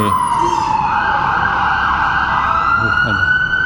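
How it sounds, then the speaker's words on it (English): A loud ambulance siren wails steadily nearby on King Street in downtown Toronto near Commerce Court, its tone sliding slightly as it passes, over a low rumble of traffic. "Just waiting for that ambulance sound to dissipate."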